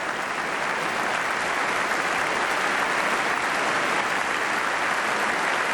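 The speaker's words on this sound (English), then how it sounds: "More applause as Speaker Hastert presents the President of the United States." Sustained applause fills the chamber of the United States Congress as Speaker Hastert presents President Bush, a dense, steady roar of clapping from a large audience that keeps an even level throughout.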